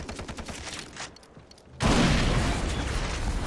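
In Far Cry 3 on Xbox 360, a sudden loud burst of crackling firework explosions erupts after a brief lull, preceded by a scatter of sharp pops.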